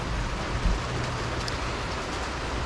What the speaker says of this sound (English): it looks like fog over the lake, but it's definitely raining